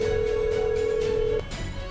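A steady electronic telephone tone sounds for over a second, then cuts off, leaving a faint background hum.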